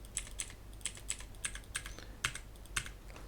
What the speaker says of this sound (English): just type these numbers that I will show you here like that